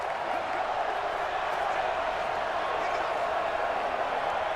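Stadium crowd noise from a Madden 20 NFL simulation of Bears at Browns, a steady broadband roar swelling slightly ahead of a big third down, loud and continuous with no distinct claps.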